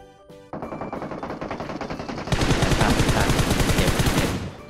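Automatic weapon fire in PUBG Mobile played on an emulator, a short burst and a pause, then a loud rapid sustained volley of gunshots, close and dominant.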